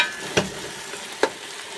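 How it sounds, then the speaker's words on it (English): Panang curry paste frying in a pot, a soft steady sizzle broken by two sharp scrapes of stirring, close by and without talk. "I'm just going to cook off the paste a little bit."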